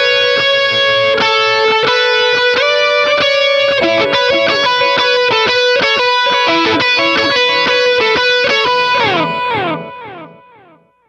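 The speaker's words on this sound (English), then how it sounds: "It's kind of a cranked AC30 with a tube screamer in front of it," Electric guitar lead through a cranked AC30-style amp with a tube screamer and prominent dotted-eighth delay on a Line 6 Helix, loud ringing overdriven notes with repeating echoes, fading out at the end.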